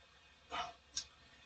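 A pet dog barks twice in the background, short faint yelps about half a second apart, heard in a quiet room.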